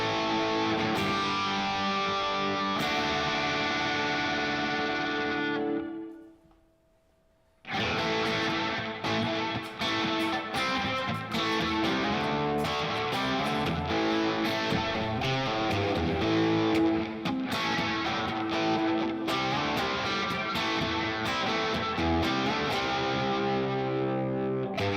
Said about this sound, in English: I would kind of like to hear the reverb and see, just to see what that does real quick.